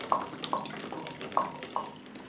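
Water drains from a home radiator with the bleed screw opened, trickling steadily with a run of soft, regular drips over a constant watery hiss.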